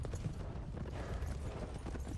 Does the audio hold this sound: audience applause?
no